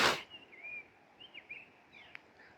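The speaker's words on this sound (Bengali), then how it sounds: "সুন্দর পাখি ডাকছে, দেখো।" Birds singing outdoors in cool air after rain, thin whistling calls and chirps repeating at a moderate distance over a quiet background, following a brief loud noise at the start.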